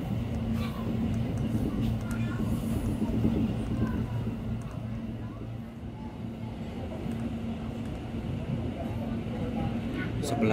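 KRL commuter train pulling into Bekasi station on the Cikarang line, a steady low rumble and hum of the carriage running throughout with faint rattles, as heard from inside; no speech in the clip.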